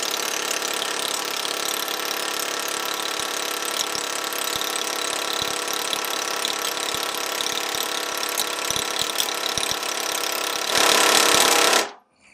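An air-powered impact tool is run on test, hammering in a loud continuous rattle with a steady pneumatic hiss close by, then rising to a harsher burst before it cuts off abruptly.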